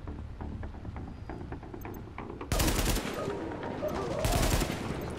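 An AK rifle in The Division rattles off quiet, rapid shots at first, then erupts into loud, sustained automatic bursts in the second half.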